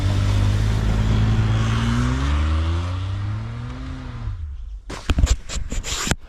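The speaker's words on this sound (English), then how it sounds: "Turn on all-wheel drive, turn off traction control, and give it lots of gas." A Kia with all-wheel drive engaged and traction control off revs hard on a snowy road, the engine pitch climbing and falling steadily for about four seconds before dropping away, followed by a few sharp knocks and clatters.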